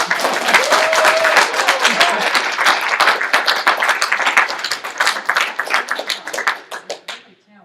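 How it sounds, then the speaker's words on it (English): A room at a high school session bursts into loud applause and clapping that gradually thins into scattered claps and fades out, with a voice heard briefly amid it. "Give an applause for that."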